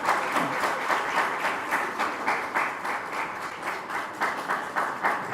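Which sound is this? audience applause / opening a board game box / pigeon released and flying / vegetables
audience applause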